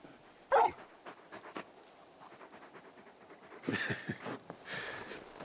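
Torgal, the giant wolf-like hound companion in Final Fantasy XVI, pants in quick, soft, rhythmic breaths with a few louder huffs, faint and close, with no talk.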